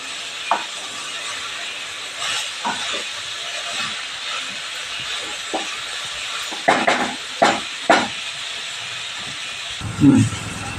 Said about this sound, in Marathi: थोड्या थोड्या वेळाने परतत राहायची